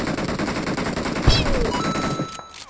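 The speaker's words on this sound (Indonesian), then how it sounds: "Ada yang nembak lo dari kiri." Rapid automatic gunfire rattles in the PUBG Mobile shooter game, a fast continuous burst of shots at fairly close range for a couple of seconds before fading out.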